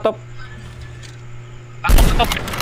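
A sniper rifle shot in Call of Duty Mobile, a single sharp loud burst that jumps in near the end after a quiet stretch of game ambience, then decays with a rumbling tail.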